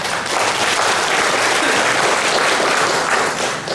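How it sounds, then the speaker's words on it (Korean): Thick, loud, sustained applause from a forum audience in Chungju welcoming the organizing committee chair, an unbroken wall of clapping with no pauses. "큰 박수로 맞아주십시오."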